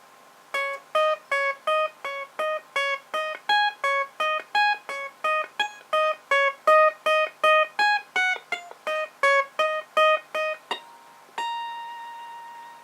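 Electric or acoustic guitar slowly picks the chorus melody of a song, a steady run of about thirty clean single notes high on the neck, close and alone, ending on one sustained ringing note.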